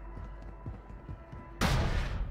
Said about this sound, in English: Is this an SMG?